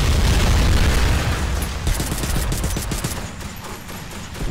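Dense gunfire from the Medal of Honor video game: a sustained fusillade of shots and booming blasts packed close together, loud at first and easing slightly while continuing to rattle throughout, with no talking.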